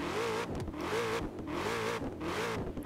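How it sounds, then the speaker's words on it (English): Shelby Mustang GT500 engine in the Forza Horizon 4 video game, revving in repeated rising pulses roughly every half second, a steady mid-pitched drone heard up close with no talk. "Let's see if the engine noise is going to be different."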